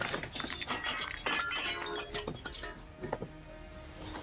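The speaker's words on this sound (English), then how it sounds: "As a deputy broke the window" A deputy breaks a window; glass shatters and tinkles in a quiet, distant scene, with scattered clinks and crunching fragments over a few seconds.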